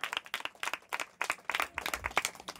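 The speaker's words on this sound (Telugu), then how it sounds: "ప్రైజ్ కొట్టాలి, చప్పట్లు గట్టిగా వస్తాయి" A church congregation bursts into applause, a close, uneven patter of many hands clapping in bursts that rise and fall over a couple of seconds.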